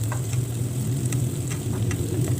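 Shallots and garlic stir-fried in a pan give a steady close sizzle, with faint scraping stir strokes ticking through at intervals and no talk.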